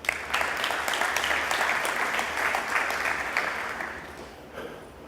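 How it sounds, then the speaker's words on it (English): An audience at a Google I/O developer talk claps steadily for a few seconds, the applause gradually tapering off. "Round of applause for that, right?"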